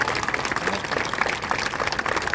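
Steady applause from a crowd at a rally at Azad Maidan, dense clapping that holds at an even level for the whole stretch.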